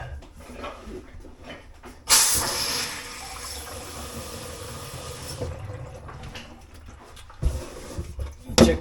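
A reopened shutoff valve under a bathroom vanity sink sends water hissing through the pipe, with a sudden loud rush that holds for a few seconds and then eases to a quieter flow.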